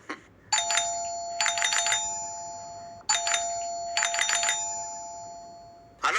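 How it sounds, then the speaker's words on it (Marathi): A doorbell rings out twice, each ring a bright ding-dong chime repeated in quick pairs, clear and close with a quiet room between. "हे बेल वाजवण्यावरून मी सांगतो"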